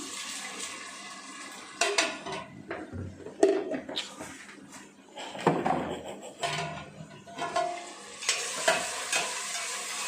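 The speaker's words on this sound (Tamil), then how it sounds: "இப்போ வெங்காயம், பச்சை மிளகா கொஞ்ச நேரம் வதங்கட்டும்." Onion and green chillies fry in a covered pan for chicken biryani, giving a moderate sizzle with irregular bursts of stirring and clinks of a utensil against the pan throughout.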